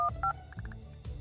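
Phone number dialed on a phone in the video game Kindergarten, a quick series of about eight short keypad tones in an uneven rhythm, close and clear.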